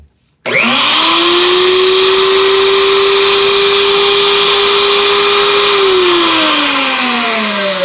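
Vevor 750g electric grain mill grinder switching on from silence, its motor spinning up into a loud steady high whine that holds, then drops in pitch near the end as it begins slowing.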